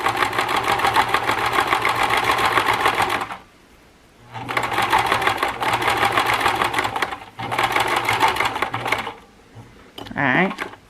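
A sewing machine set to a long straight stitch runs through potholder fabric in three fast, steady bursts separated by short pauses, close and clear, ending with a brief whirring adjustment.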